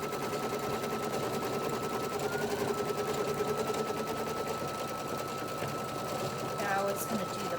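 Embroidery machine stitching a design onto a kids shirt, a steady rapid whirring rattle of needle strokes running continuously at close range, with a brief shift in pitch near the end as it jumps between hidden stitches.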